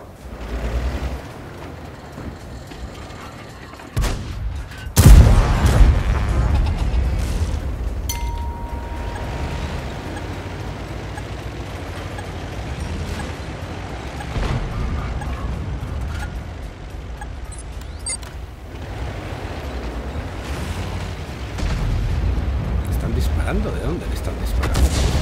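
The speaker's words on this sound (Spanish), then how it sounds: "Y la artillería está ahí." Heavy booming artillery blasts and gunfire rumble through a busy video game soundscape, with a sharp loud hit partway through and a voice talking over it.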